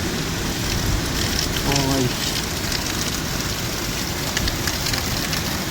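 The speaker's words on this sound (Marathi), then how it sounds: "हे बघा, काय भयानक पाऊस आहे" Heavy first-of-season rain with strong wind pours down in Baramati as a dense, steady hiss and patter close by, with brief speech over it.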